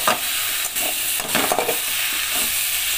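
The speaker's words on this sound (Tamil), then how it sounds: "நல்லா வதக்கிடலாம்" Vegetables sauté in oil with a dense, hissing sizzle. A few brief stirring scrapes rise over the sizzle, and it all stays close and loud without any talk.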